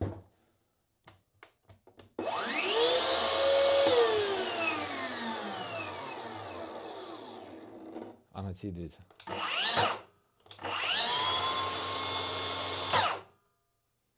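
A Milwaukee track saw motor whines up loudly, runs for several seconds and spins down, then starts and stops twice more in short bursts, with a brief spoken remark.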